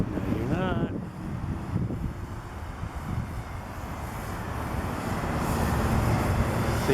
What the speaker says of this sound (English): See, I'm fighting the wind right there.